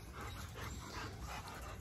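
Dogs at a New Year's gathering whine and pant close by, with soft yips among a steady, busy background hum and no clear barks standing out.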